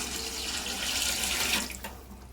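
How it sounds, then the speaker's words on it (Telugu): Water pours steadily into a cooking pot for basmati rice, a continuous splashing rush that swells midway and then tapers off with a last trickle, at moderate distance with no speech. "ఇప్పుడు 1 kg రైస్కి, బాస్మతి రైస్కి ఒక 4 చెంబుల నీళ్లు పోసుకున్నాము."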